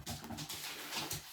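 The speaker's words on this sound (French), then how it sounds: "C'est mon chien" A dog named Snoopy whimpers and whines in short, high, breathy bursts repeated over a second or so, fairly close and alone, with no talking.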